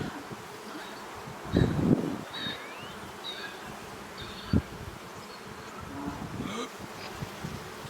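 Honeybees buzzing around an open hive during a spring inspection, a steady insect hum with a few louder close passes and brief handling noises, a single short word spoken.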